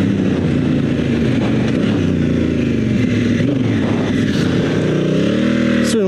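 Honda Africa Twin motorcycle on Bridgestone A41 adventure tires churning through deep sand, a loud continuous engine drone with revving and shifting pitch close by throughout, rising briefly near the end.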